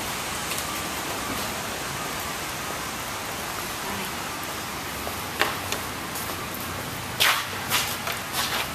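Rain falls outdoors in cold weather, a steady broadband hiss filling the whole stretch, with a few sharper splashes or rustles near the end and no talk.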